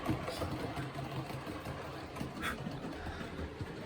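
The motor of a Hornby King model locomotive, freshly greased, oiled and with cleaned wheels, runs with a faint, steady whirring hum.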